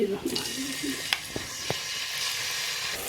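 Spices hit hot oil in a cooking pot and fry with a steady, bright sizzling hiss. A few light clinks punctuate it, and a voice is briefly heard at the start.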